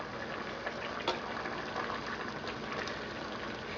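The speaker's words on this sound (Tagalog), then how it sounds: "Then, stir lang natin." Dinuguan with powdered sinigang mix simmers in a pot, a steady bubbling boil with faint stirring knocks, heard alone.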